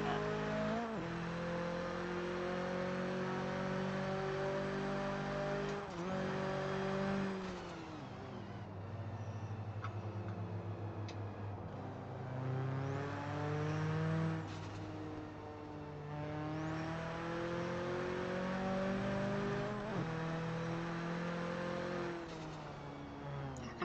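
A car in traffic in the Forza racing video game: engine drone rises and falls through gear changes and revs, with passing traffic and occasional tire noise, continuous and close with no talking.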